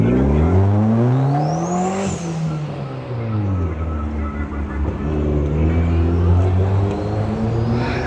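A Porsche 911 pulls into a car meet, its engine rumbling loud and close with a rising and falling rev, a steady throaty drone that holds through the whole stretch, with faint voices in the background.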